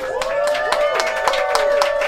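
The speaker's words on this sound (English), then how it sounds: "Please give Funky Daniva a round of applause." Scattered clapping from a small audience at a live-streamed drag show, sparse and uneven under a sustained musical tone with rhythmic beats.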